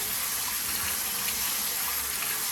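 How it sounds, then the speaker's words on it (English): Cold tap water runs steadily over soba noodles as the starch is rinsed off, a constant close gushing splash with no talking. "be sure you have some cold water at the ready to wash off the starch."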